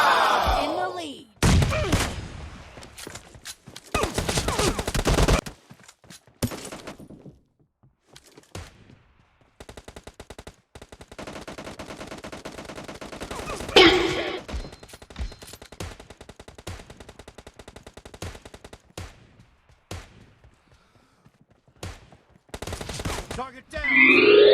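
Bursts of automatic gunfire in a PUBG Mobile Lite team deathmatch, rapid volleys separated by quiet gaps, mixed with game effects and occasional voices.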